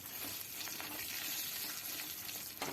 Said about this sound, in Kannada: ಇದನ್ನು ಚೆನ್ನಾಗಿ ಸ್ವಲ್ಪ ಫ್ರೈ ಮಾಡಿದರೆ ಆಯಿತು